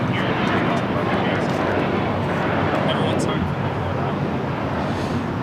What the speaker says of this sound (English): This takeoff is American Airlines 1672, taking off to Dallas-Fort Worth on an A321.